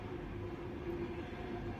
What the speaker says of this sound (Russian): Так что вот такие дела, поезд у нас едет,